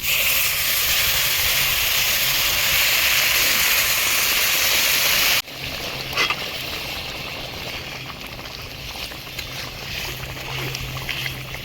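Hot water poured into a pan of fried rice, meat and peas sends up a loud, close, harsh hiss of steam for about five seconds, then drops sharply to a quieter bubbling simmer with faint clinks.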